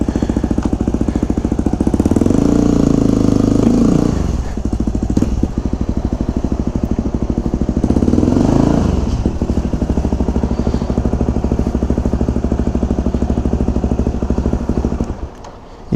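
A 2009 Yamaha WR250X motorcycle being ridden, its single-cylinder engine droning loud and steady with rising revs around a couple of points before settling to an even, buzzing cruise that fades at the end.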